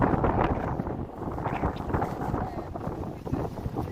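Strong wind buffets the microphone at night on the Las Vegas Strip, a continuous loud rumbling gust with faint city noise beneath.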